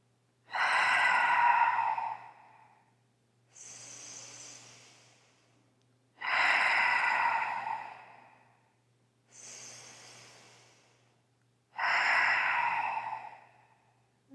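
Slow, deep yoga breathing during a calm hip-opening practice: long full inhales alternate with softer exhales in a steady rhythm, close and clear with no talking.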